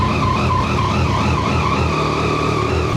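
A 2025 Yamaha MT-09 SP motorcycle on the road, its engine a steady close droning roar with a faint wavering whine over constant wind rush, continuous for the whole stretch.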